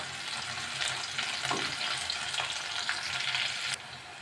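Sliced onions and crushed garlic fry in a pan with a steady, soft sizzle and a few faint stirring scrapes. It is fairly quiet and continuous, with no talking.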